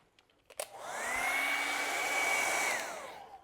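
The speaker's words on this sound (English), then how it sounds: "Okay, let me dry this though." A hair dryer whirs up to a steady high-pitched blow for about two seconds, drying acrylic paint on a canvas, then winds down; a few small clicks come just before it starts.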